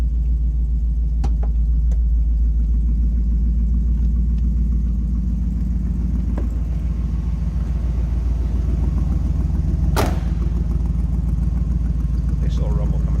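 A 1978 Chrysler Cordoba with a 400 V8 idles with a steady, deep low rumble, close and continuous, with a couple of brief clicks and knocks over the running engine.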